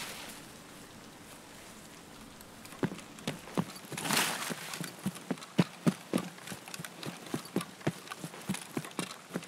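Footsteps in the video game Escape from Tarkov, a rhythmic series of crunchy steps that starts faint and grows louder and more distinct as they approach, alone without talk.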